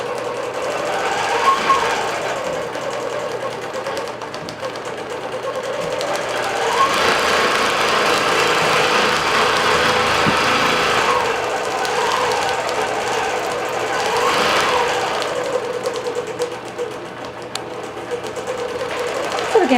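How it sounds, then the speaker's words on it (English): A Bernina Q24 quilting machine running Q-matic software stitches steadily with a fast, even mechanical hum and rapid needle rhythm, with the pitch rising and falling as it moves. Loud and close throughout. "we're quilting on a Bernina Q24 with Q-matic software and Art and Stitch version 5"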